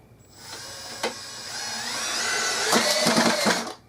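A Milwaukee M18 cordless compact drill drives a screw into wood with a rising whine that builds over a few seconds, with a brief clack early on and ratcheting clatter near the end as the screw seats. Close and clear, with no talk.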